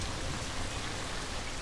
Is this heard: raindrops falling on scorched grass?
yes